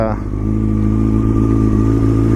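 The engine of a 2014 Yamaha YZF-R6 sport motorcycle idles loud and close, a deep throbbing rumble with a brief rev at the start.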